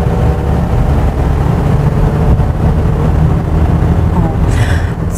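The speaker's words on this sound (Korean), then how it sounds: "들리실지는 모르겠지만 속도를 올릴 때 이런 엔진 소음이나 노면 소음이" SsangYong Tivoli heard from the cabin while accelerating, a steady low engine drone mixed with road rumble throughout, a faint higher tone appearing near the end.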